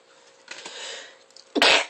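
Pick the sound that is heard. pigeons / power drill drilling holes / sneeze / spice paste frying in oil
sneeze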